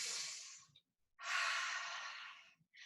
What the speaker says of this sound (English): take a resting breath in and out